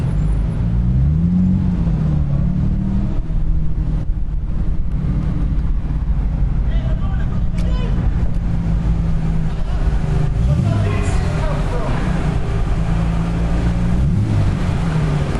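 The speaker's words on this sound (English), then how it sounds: "the sound of boarding this ferry" Cars driving aboard a ferry while boarding, on a trip to Le Mans, with a continuous loud rumble of engines and low tonal droning that rises and falls, wind buffeting the microphone, and faint voices in the background.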